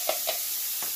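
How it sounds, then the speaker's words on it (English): Onions and garlic sizzle in a pan sprayed with cooking spray, a steady close hiss with a few brief bursts of crackle as pieces hit the hot surface. "I'm going to dump in my onions"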